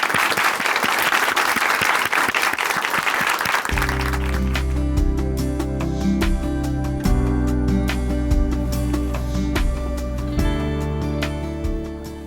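Loud, crowded applause from a church television audience welcomes a testimony speaker from Chuncheon Hanmaum Church, filling the first few seconds before giving way to steady instrumental music that carries on to the end.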